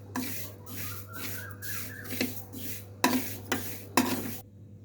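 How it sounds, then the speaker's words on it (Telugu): Split black gram (urad dal) dry-roasting in a pan, with soft repeated scraping and rustling of stirring, a few sharper clinks of the utensil against the pan, over a low steady hum. "జస్ట్ ఒక టూ త్రీ మినిట్స్ ఫ్రై చేసుకోండి డ్రైగానే డ్రైగా ఫ్రై చేసుకోండి"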